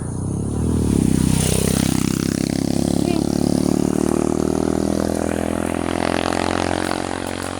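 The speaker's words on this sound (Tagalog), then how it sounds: "O sandali, may motor, patabi ka lang." A motorcycle engine approaches and roars past nearby, its pitch swooping down as it goes by, then a steady engine drone continues.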